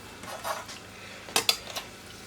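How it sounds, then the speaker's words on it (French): Pork cheeks are lifted out of a pan of reducing sauce, giving a few soft metallic clinks and scrapes of a utensil against the pan over a faint simmer, close and brief, with no talking. "Donc là je vais retirer les joues"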